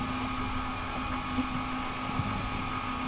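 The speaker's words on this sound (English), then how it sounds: "They hear the boat and they don't like it." A steady, low motorboat engine drone on a swordfishing boat, a constant hum, continuous and fairly even, with a couple of faint knocks over the top.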